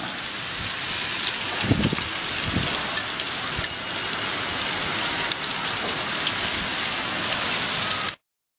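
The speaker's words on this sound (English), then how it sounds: "hailstorm in Jerusalem" Hail or heavy rain pounds hard surfaces during a storm in Jerusalem, a dense steady hiss with a few louder thumping impacts near the start, continuous and close for about eight seconds before cutting off abruptly.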